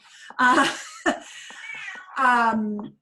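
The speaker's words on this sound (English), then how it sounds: "my kitty cat is meowing a lot in the background." A pet cat meowing loudly and close by, two long drawn-out meows with a short chirp between, plus a few small clicks.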